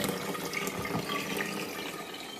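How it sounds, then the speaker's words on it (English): A wash basin tap runs steadily in a house, its water streaming continuously and close by for the whole stretch, with no voices. "The wash basin is working, both hot and cold."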